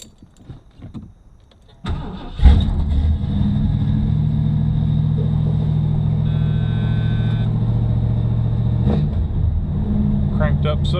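A 1977 Mercury wagon's engine cranks briefly, then catches and settles into a loud, steady rumbling idle with a short rev near the end, heard close up after some quiet shuffling and a few spoken words.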